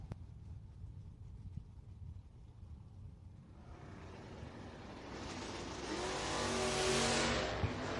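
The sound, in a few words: drag racing Chevrolet Nova launching in a wheel stand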